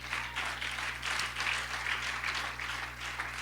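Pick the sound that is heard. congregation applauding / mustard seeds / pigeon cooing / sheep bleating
congregation applauding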